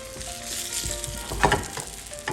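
A classic French omelette cooks in a pan, giving a close, steady sizzle with soft scraping and swirling movements and a brief cluster of sharper clinks partway through, with no talking.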